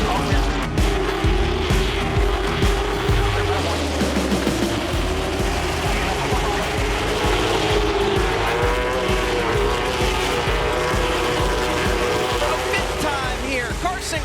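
Late model stock cars roar loudly around a short oval track, one car spinning with tire squeal and skidding amid continuous engine noise, with commentary voices over the top.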